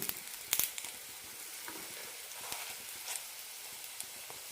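Sweet potato and wheat flour snacks sizzle in hot oil with a steady crackling hiss, a few sharper pops and a stir or two, close and fairly quiet with no voices.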